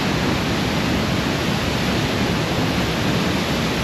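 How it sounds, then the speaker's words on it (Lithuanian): A waterfall roars steadily at very close range, a dense, loud, unbroken wash of rushing water with no voices. "Neblogas krioklys."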